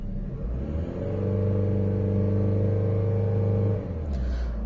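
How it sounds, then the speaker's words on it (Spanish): A Chevrolet Aveo E-TEC II engine revs up from idle, holds a steady higher rumbling drone for a few seconds, then drops back down, heard close with no talking. "Vamos a acelerar."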